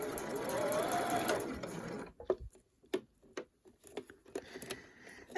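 A sewing machine runs continuously, stitching down a standard zip with the foot guiding along the coils. Then comes a series of separate mechanical clicks and ticks as it stops and is adjusted, all close and fairly quiet.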